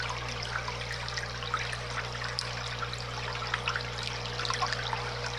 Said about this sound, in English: as the aeration comes up with air bubbles, the agitator will go over the bubbles and pop them